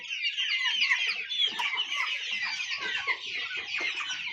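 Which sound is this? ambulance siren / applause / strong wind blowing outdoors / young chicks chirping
young chicks chirping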